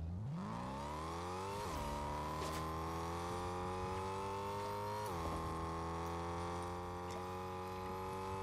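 Engine of a car in Fortnite Zero Build revving up steadily with rising pitch, shifting through two gear changes, loud and continuous with no talking.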